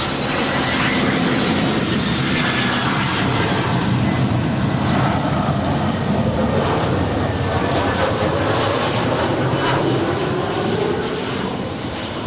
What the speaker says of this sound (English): Alaska Airlines Flight 350 coming in from Portland. It is a 10-year-old A320.